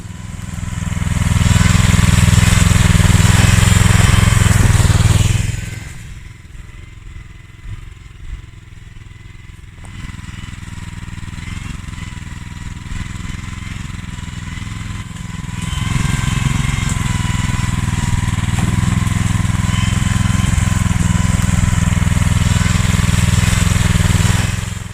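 A loud, rumbling engine of a farm tractor with dual wheels, pulling a loaded trailer out of a forest, works hard, drops to a lower idle-like drone, then grows louder again as it keeps moving.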